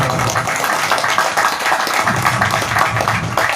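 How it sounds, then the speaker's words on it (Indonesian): An audience claps hands at an Indonesian DPD RI political gathering. The dense, steady clapping fills the entire short stretch at a loud level, with murmuring voices mixed in. "Silakan tepuk tangan."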